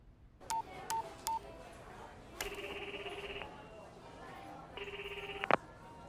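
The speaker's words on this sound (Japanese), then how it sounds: "せっかくだから紫バラッチに電話してみようよ" Telephone dialing tones from an anime scene: three short keypad beeps, then two longer steady dual-tone buzzes separated by a pause, ending with a brief click, fairly quiet and clear.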